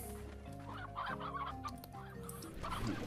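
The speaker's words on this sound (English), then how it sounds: "Man, there's a lot of stony hens." Stony hens in the Slime Rancher video game cluck repeatedly over soft game music, a steady run of short clucks at moderate volume.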